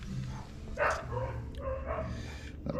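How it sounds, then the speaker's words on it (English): Dogs barking outdoors during work on a car tow dolly, a few short barks and yips at moderate distance over a steady low background hum. "And there they go, dogs."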